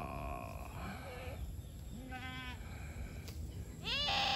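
Tethered goats on a farm surrounded by vegetable plots give several close, wavering bleats one after another, with steady background noise and no talk.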